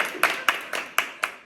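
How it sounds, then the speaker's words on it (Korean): A few people clapping in a chemistry department promo, about six distinct claps in a slow, even rhythm, close and fairly quiet. "박수!"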